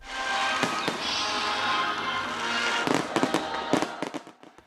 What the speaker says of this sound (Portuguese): o show de fogos de artifício